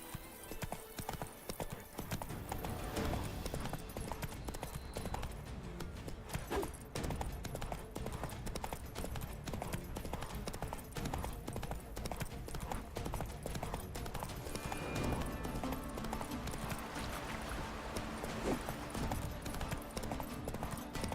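Hooves of the horse Roach clip-clopping at a steady gallop in The Witcher 3: Blood and Wine, loud and continuous throughout amid game ambience and occasional effects.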